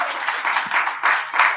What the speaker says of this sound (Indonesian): Beri tepuk tangan meriah buat Tuhan.